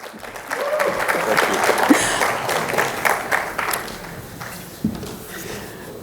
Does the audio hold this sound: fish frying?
no